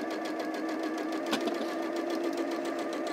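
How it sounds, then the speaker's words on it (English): A home sewing machine stitches quarter-inch seams for a patchwork quilt block, a steady mechanical whir with a rhythmic needle pulse running evenly throughout at moderate level, no talk. "getting into the rhythm of how your sewing machine works for you"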